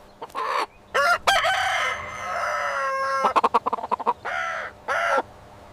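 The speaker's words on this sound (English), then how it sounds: "It's a rooster." A rooster crows loudly and close, several bursts with a long drawn-out call, then a quick run of sharp clucks and a couple more short crows.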